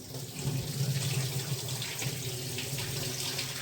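Tap water running into a sink while sabudana is rinsed, a steady close gush and splash that continues throughout with no talk over it.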